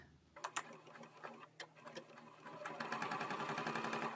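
A sewing machine stitches a quilted book sleeve, starting with a few ticking clicks and pauses before settling into a fast, steady mechanical whir that builds and runs continuously, close and fairly quiet.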